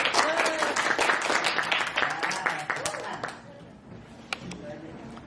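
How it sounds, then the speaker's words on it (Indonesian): A classroom group gives a round of applause, brisk clapping that is strongest at first and thins out, tapering to a few scattered claps by the end. "mari sekali lagi boleh tepuk tangan dulu"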